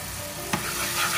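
Steady, loud sizzling from flounder fillet frying in teriyaki sauce in an overly hot pan, with one brief scrape partway through and no voices.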